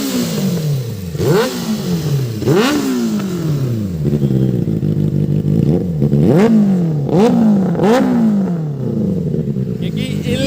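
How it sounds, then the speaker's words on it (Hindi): Benelli 600i inline-four motorcycle engine revving repeatedly, with sharp rising-and-falling throttle blips in an uneven rhythm, loud and close with a steady idle between bursts. "इसकी जो साउंड है ना काफ़ी ज़्यादा अमेजिंग है क्योंकि इनलाइन 4 है गाइस"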